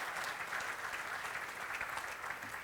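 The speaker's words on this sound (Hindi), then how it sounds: "मैं उनके लिए चाहूँगा ज़ोरदार ताली बजाइए" An awards ceremony audience bursts into sustained applause after a speech, a dense wash of many hands clapping evenly for the whole stretch at moderate distance, with no voices heard over it.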